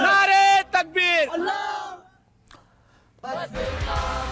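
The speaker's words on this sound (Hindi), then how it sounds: "जंतर मंतर पर अल्लाह अकबर के नारे और लगाए गए" A protest crowd at Jantar Mantar chants Allahu Akbar slogans, loud rhythmic shouted calls for about two seconds, then a quieter pause before another burst of chanting with some crowd noise.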